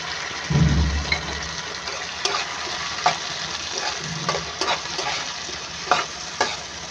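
A ground paste of mustard, fennel and green chili goes into a hot pan with a splash of water, bursting into a loud sizzle and bubbling, then steady frying with intermittent stirring clinks.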